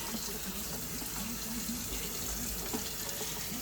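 Running kitchen faucet rinsing something under the tap, a steady, soft rush of water that stays even for the whole few seconds, with no talking.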